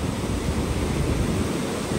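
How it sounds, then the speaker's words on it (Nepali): Mountain river flowing down from Api Himal on a trek in Darchula, Nepal, heard as a steady close rushing roar of water with no pauses or voices. "यो चाहिँ अपी हिमालबाट बगेर आएको खोला"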